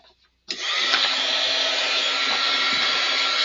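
A heat tool used to heat-set freshly stamped gray ink switches on abruptly after a moment of near silence, then blows a steady, loud, close airy whir.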